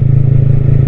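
A motorcycle engine runs at steady idle, a loud, close, low thumping rumble with a constant beat and no voices over it.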